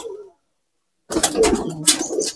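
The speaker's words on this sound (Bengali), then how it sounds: "এটা লালপাড়ি নর কবুতর" A red-laced male pigeon coos close by, with a soft low call at the start, a brief silence, then a fuller, louder rolling coo that runs to the end.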